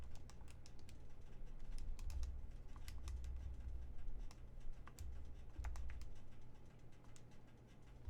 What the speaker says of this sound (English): So let's just plug this all into our calculator.